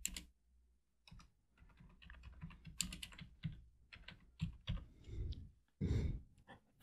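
Someone types a web search on a computer keyboard: quiet, irregular clusters of key clicks with short pauses between bursts, close by and with no talking.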